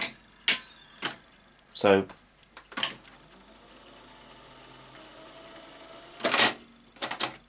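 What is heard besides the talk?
Sony SL-C7UB Betamax recorder mechanism taking the tape back in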